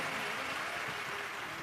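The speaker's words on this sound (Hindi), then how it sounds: "एक बार आप लोग भी जोरदार ताली बजाकर यजमान परिवार के लिए साथ" An audience at a Shiv Mahapuran katha gathering claps loudly, a dense, continuous wash of many hands applauding at a steady level throughout.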